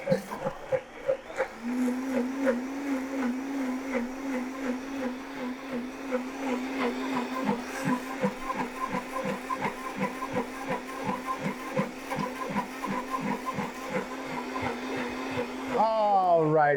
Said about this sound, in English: I'll turn my blender up just a little